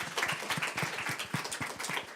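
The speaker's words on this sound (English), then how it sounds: "Round of applause, please." An audience at a plenary session of the One Planet Network Forum 2022 gives fairly faint, scattered applause, with individual claps distinct in an uneven rhythm.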